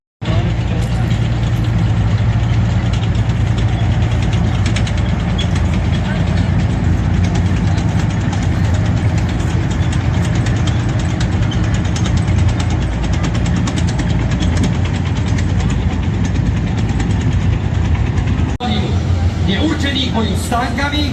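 Loud, continuous engine drone and heavy rumble from an armored combat vehicle fitted with a 30 mm cannon at a night military parade rehearsal for the SNP anniversary, steady throughout, with voices over a loudspeaker.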